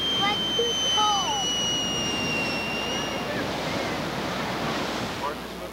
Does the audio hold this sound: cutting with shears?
no